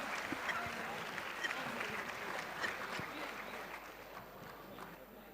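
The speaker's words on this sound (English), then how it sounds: "can we have a huge round of applause for all the finalist teams here?" Applause for finalist teams at a quiz contest, a faint, steady crowd clapping that fades slightly toward the end.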